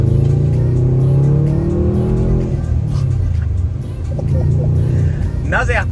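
A Subaru WRX STI on the move, its engine droning steadily and then easing off with rising and falling pitch, heard from inside the car while people talk over it.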